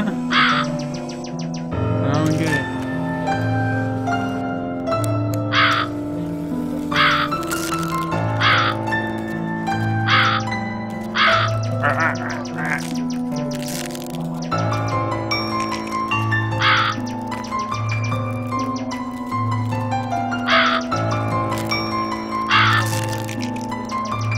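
Repeated crow caws ring out over steady, looping background music in the video game A Quiver of Crows, the calls coming every second or two, fairly loud and mixed into the soundtrack.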